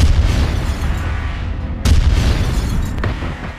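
A loud, deep boom bursts out as a gas explosion erupts when a gas valve is opened, followed moments later by a second sharp blast, with rumbling noise lingering between them.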